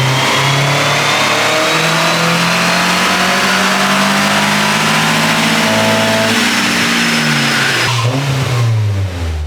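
A Nissan S14 Silvia engine revving hard on a dyno, a loud sustained pull climbing steadily in pitch over several seconds before lifting off near the end.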